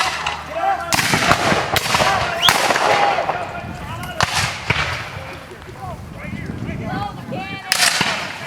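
Cannons fire at a 2013 Civil War reenactment battle in Lamoni: loud, booming blasts repeat irregularly over a noisy outdoor field. Distant voices and crowd sounds continue in between.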